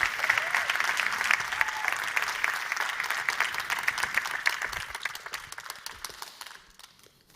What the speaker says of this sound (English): Ladies and gentlemen, a round of applause for Tafazo.